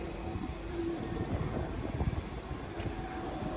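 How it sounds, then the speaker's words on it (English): A Liverpool metro train pulls into the platform with a steady, loud rumble and rolling noise that fills the whole stretch, with no one talking over it. "our metro is in."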